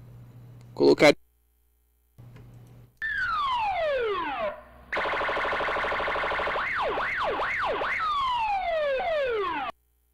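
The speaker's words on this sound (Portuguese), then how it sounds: "Sirene de alerta." An alert siren sound effect sweeps up and down in loud, wailing tones and breaks into a fast warble before the sweeping resumes, after a few short bursts at the start.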